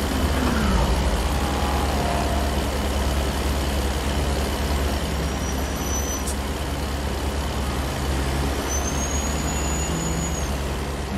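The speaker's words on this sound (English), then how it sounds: "Noisy truck behind me." A heavy truck engine drones steadily in American Truck Simulator on a late-night Oregon drive, a loud continuous low rumble with faint passing whines and no voices.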